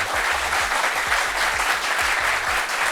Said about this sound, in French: ce charmant public à qui je vais demander de s'applaudir encore une fois de plus